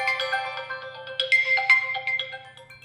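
A Vivo X200t phone plays a loud ringtone through its dual speakers: a bright, tonal electronic melody of short repeated chimes over a steady low hum, with no talking.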